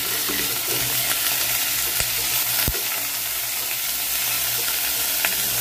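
Loud, continuous sizzle of chicken breast frying in a pan, with occasional sharp clacks of a utensil stirring and scraping the pan, and no talking.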